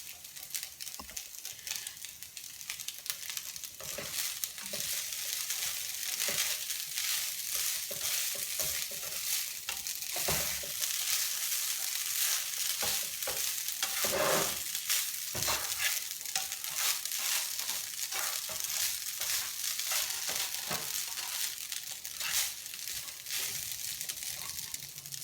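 A spoon stirs a quinoa stuffing for acorn squash in a pan, giving a steady, close scraping and soft sizzling patter that continues without pause.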